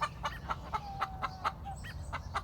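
Several Americana roosters cluck and call in a quick, irregular series of short bursts, heard at moderate distance over steady low background noise.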